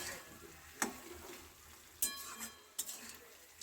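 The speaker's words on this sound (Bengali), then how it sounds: "এভাবে কিছুক্ষণ কষাতে থাকবো।" Vegetables coated in spice paste are stir-fried in a pan, a soft steady sizzle broken by a few sharp clicks of a utensil striking the pan, close and quiet.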